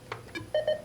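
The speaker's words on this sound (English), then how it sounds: "it'll make a double beep letting you know that is the last book on the cartridge" An NLS digital talking book player gives a double beep at the end of its book list: two short, clear, identical electronic tones close together, preceded by faint button clicks.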